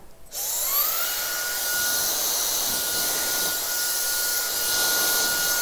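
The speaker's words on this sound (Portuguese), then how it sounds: "Então eu acabo não usando, trabalhando com ele na velocidade alta do secador" A hair dryer runs steadily at medium speed while roots are being straightened in a salon, a loud continuous whooshing airflow with a high whine, starting abruptly and holding even throughout, no talking.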